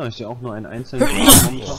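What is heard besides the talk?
sneeze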